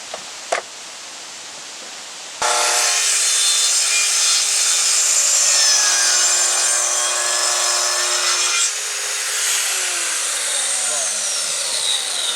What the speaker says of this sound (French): on a un premier trait de scie qui est fait